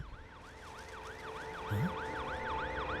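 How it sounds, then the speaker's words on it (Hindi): An ambulance siren wails in a steady rising-and-falling cycle, repeating continuously at a moderate distance, with a brief low engine or horn blip midway and no voices. "यहाँ पर एम्बुलेंस आ गई है।"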